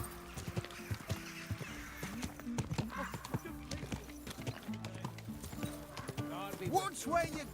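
Horse hooves clip-clopping in a rhythmic walking pattern in Kingdom Come: Deliverance 2, with brief whinnies and snorts, under game music and someone talking.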